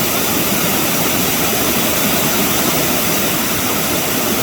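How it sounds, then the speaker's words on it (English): Loud, continuous rush of several waterfalls pouring down a hillside at Settlers Cove, Alaska, a dense steady roar heard up close with no voices. "Bunch of waterfalls here."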